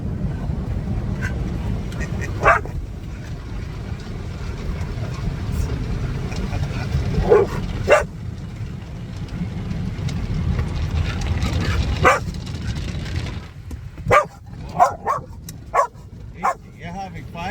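A dog inside a car going through a car wash barks and yips excitedly in repeated bursts over the constant roar of spraying water and brushes, with people talking.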